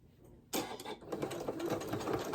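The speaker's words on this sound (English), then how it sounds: "if I see any spots where I've missed a zigzag stitch, like right in here, just go back in" A sewing machine starts up and runs a zigzag stitch over fabric scraps for a rag hotpad, with a sudden onset after a brief quiet, then a fast, steady mechanical whirr and needle chatter heard up close.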